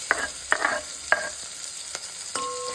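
Chopped onions are stirred into a hot pan for buttermilk rasam (majjiga chaaru). Several sharp spatula knocks and scrapes sound close up over a soft, steady sizzle.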